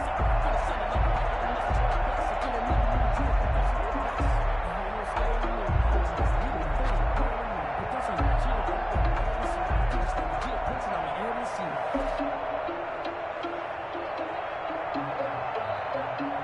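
Dense stadium crowd roar from a football video game, a steady wash of cheering that holds loud throughout and eases slightly near the end, with game commentary talking over it.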